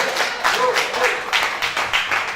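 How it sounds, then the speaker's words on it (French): Studio audience on a live French TV music show claps in a loose, fairly close burst of applause that swells and fades in waves, with voices talking over it. "on peut l'applaudir"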